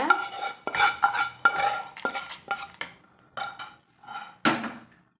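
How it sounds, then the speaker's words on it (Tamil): A spoon stirs salt into a dry roasted sesame mixture in a pan, giving a series of close scraping strokes and metallic clinks in an uneven rhythm, separated by short pauses, with no talk. "நான் உப்பு சேர்த்து அதே ஒரு கலர் கலக்கி எடுத்துக்கிறேங்க"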